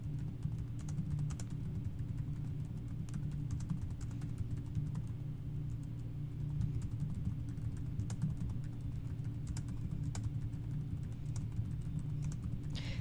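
Continuous computer keyboard typing, rapid light key taps running steadily throughout over a constant low hum, close and fairly quiet with no voices.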